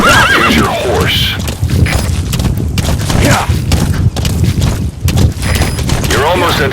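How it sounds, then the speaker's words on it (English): A horse in Metal Gear Solid V neighs and whinnies several times while its hooves clip-clop, heard under steady in-game voice dialogue with distant gunfire and booms in the background. "Use your horse."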